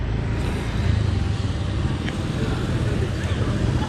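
A motorbike passes along a busy Hanoi street, its engine a steady low rumble blended into dense traffic noise that holds for about four seconds.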